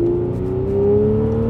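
A BMW 7 Series with a V12 engine revs loudly up close in one continuous pull, its smooth hum rising steadily in pitch with no voices.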